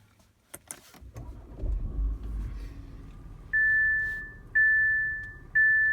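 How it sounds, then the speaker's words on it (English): An Audi has its ignition switched on. A couple of sharp clicks lead into a brief rumbling engine start, followed by three clear, evenly spaced electronic chimes. "So I'm going to turn on the ignition."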